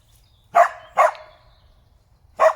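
Dogs barking outdoors: three sharp, loud barks, two close together and a third after a pause, with nothing else around them.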